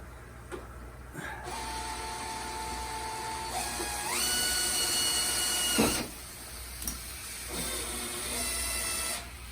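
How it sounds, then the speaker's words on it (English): A drill with a 13/64 bit whines in bursts, its pitch rising as it speeds up, stopping and starting a few times against a quiet background hum. "So this is a 13/64 drill bit."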